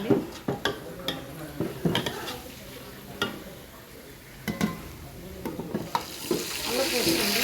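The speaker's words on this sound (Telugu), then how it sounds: "ఇవి బాగా చికెన్ బాగా ఫ్లేవర్ బాగా హోటల్ స్టైల్లో బాగుంటుందండి. అలాగా బాగా వేగిపోయినాయి, ఫ్రై అయినాయి చికెన్ కర్రీలోనండి." Chicken curry with onions frying in a pan, a steady sizzle broken by repeated scrapes and clinks of a spoon stirring against the metal, close and continuous.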